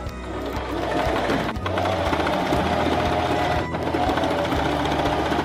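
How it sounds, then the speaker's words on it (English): A sewing machine runs a steady zigzag stitch through sock fabric, a continuous close mechanical whir with a rapid needle rhythm, briefly slowing twice before picking back up. "take this to the sewing machine and just sew it right here all the way"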